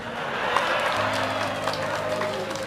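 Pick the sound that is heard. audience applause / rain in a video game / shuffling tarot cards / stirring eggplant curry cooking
audience applause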